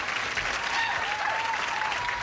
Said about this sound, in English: let's get started here by saying hello to our stars with a brisk round of applause